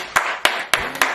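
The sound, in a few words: round of applause, group clapping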